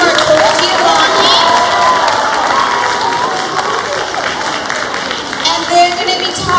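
Audience applause and cheering for visiting author Marc Colagiovanni and illustrator Peter H. Reynolds, a loud, sustained crowd roar of clapping mixed with shouts and excited children's voices.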